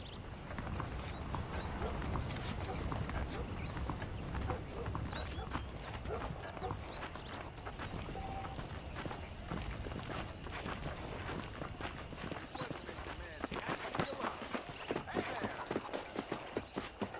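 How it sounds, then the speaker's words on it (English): Steady clip-clop of horse hooves on hard ground in the video game Red Dead Redemption, a continuous trotting rhythm under a constant rumbling background. "The horses are saddled up over here."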